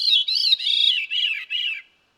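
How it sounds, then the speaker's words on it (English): A veery sings nearby, a clear flute-like phrase of five descending, spiraling notes, each a brief swirl falling in pitch, ending cleanly in silence. "the veery has one of the most beautiful bird songs I've ever heard"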